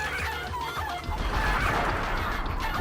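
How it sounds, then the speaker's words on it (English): Chicken clucking from a 3DO video game, loud and continuous with a dense, busy texture for nearly three seconds, and no talk. "The fucking chicken noises."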